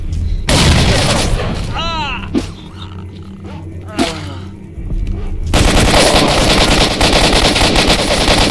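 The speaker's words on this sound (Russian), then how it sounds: "Атас, граната!" A grenade blast and gunfire ring out in the S.T.A.L.K.E.R.: Shadow of Chornobyl shooter game: a sudden loud burst, a few sharp cracks, then a sustained heavy roar of shooting, with faint whistling sounds between.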